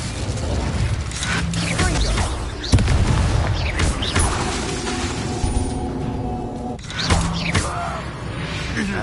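Fire spell blasts and booming magical explosions from Hogwarts Legacy, several heavy impacts with crackling and creaking bursts in a busy, loud battle mix.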